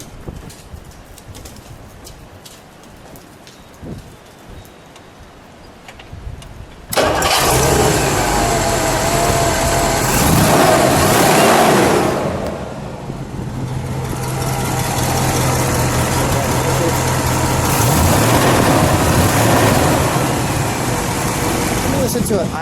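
A supercharged R2 289 V8 in a 1964 Studebaker Avanti cranks and catches after a quiet stretch with voices, then roars loudly at idle, dips briefly and swells again into a sustained revving rumble, close up and dominant.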